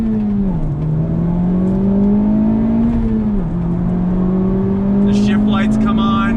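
A 2019 Honda Civic Type R, front-wheel drive, accelerates hard in first gear, its engine note climbing steadily with a brief dip, loud and close from inside the cabin, with a voice talking over it.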